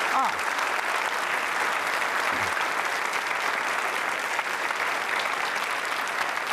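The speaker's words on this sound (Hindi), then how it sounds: "तालियां जोरों से बजाइए अपने लिए और हमारे दर्शकों के लिए" Vigorous audience applause at a university Holi quiz show, thick continuous clapping from a seated crowd held at a steady level throughout, with a few faint voices underneath.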